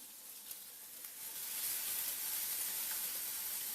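Steady, loud sizzling hiss of meatballs cooking in a closed contact grill, constant throughout with a few faint pops.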